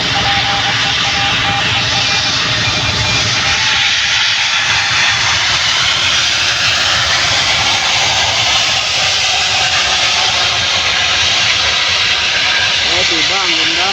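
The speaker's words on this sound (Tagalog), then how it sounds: "Panood ka ngayon ng paglapag ng eroplano." A fixed-wing airplane landing roars loudly and continuously, with broad jet-engine rumble and hiss dominating throughout and a voice talking faintly underneath.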